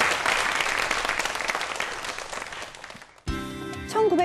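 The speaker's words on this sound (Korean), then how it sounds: "여러분 큰 박수 부탁드리겠습니다." An audience applauds a rocket scientist at a science talk. Sustained, full clapping slowly tapers for about three seconds before a sudden cut to musical tones.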